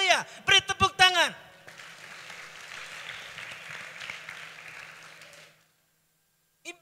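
A conference crowd at a church gathering breaks into applause right after an energetic spoken exclamation. The clapping holds as a broad, steady wash for several seconds, then cuts off before another voice briefly begins.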